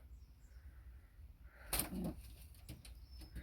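A strong racing pigeon, a Janssen-line bird from the Ferbart family, coos faintly near a quiet room, with a short soft burst of wing or body movement midway.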